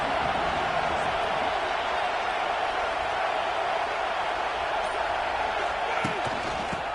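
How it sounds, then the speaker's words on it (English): A stadium crowd at a football game roars steadily as a dense, distant wash of cheering that holds for the whole stretch, with voices faintly mixed in. "This crowd ready to make its presence known."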